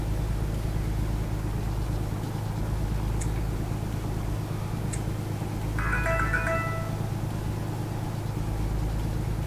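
A phone chimes briefly with a short melodic notification for Wi-Fi detection, set against a steady low engine hum inside a transport truck on American roads.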